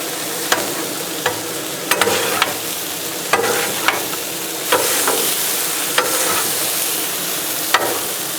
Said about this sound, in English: we'll go ahead and saute these up